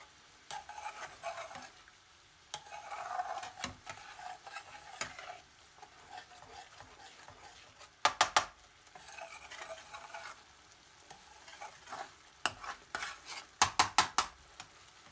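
BIR-style chasni sauce is stirred in a pan, a steady scraping swish with a soft sizzle underneath, punctuated by sharp clusters of utensil clicks against the pan near the middle and end, close and alone.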